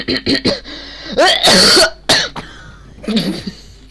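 A person sneezes once, sharply and loudly, with short coughs and throat sounds before and after it, all close to the microphone.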